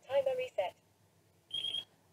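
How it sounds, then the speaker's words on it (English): An OpenTX Lite radio transmitter, used with INAV fixed-wing aircraft, gives a short high electronic beep after a mission loads. The beep is faint and follows someone speaking nearby. "There will be a beep after load mission."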